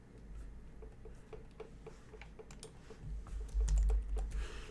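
Keys click on a computer keyboard in a terminal session, quick irregular taps heard close but fairly quiet, with a low thump and rustle building toward the end.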